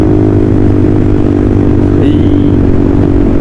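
A KTM Duke or FZ 250 motorcycle in a sudden race on a group ride gives a loud, close, constant engine drone that runs unbroken throughout, with no talking.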